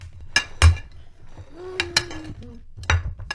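Candies being mixed on a plate, with several close clinks and knocks and a brief hum of voice between them.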